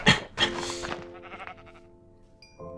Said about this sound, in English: I'm fighting his sheep friends.